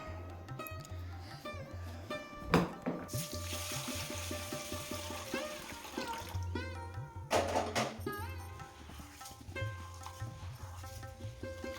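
Pots and utensils clink and clatter in a home kitchen while dal and rice are put on to cook, with running water and scattered metallic knocks over music-like background sound, moderately quiet.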